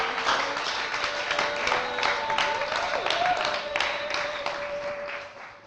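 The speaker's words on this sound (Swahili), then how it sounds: "Basi tutampokea Pastor Michel kwa vigelegele." A church audience applauds with scattered claps to welcome Pastor Michel, the clapping moderate and continuous under a sustained high trilling tone that may be ululation, fading slightly toward the end.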